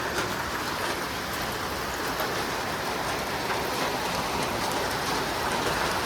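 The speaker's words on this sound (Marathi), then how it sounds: "आता पूर्ण पाऊस पडायला लागला" Heavy rain pours down steadily, a dense, continuous hiss of drops hitting surfaces, with no voices.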